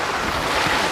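Water from Panalaban Falls in Majayjay, Laguna rushes down its stream in a loud, dense, continuous roar with no voices.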